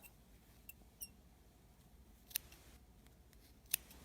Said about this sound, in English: just snip this little section right here of the green